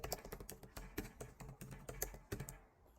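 Keys on a computer keyboard are tapped in quick, uneven bursts of crisp clicks, close and fairly quiet, with a brief pause near the end and no voices.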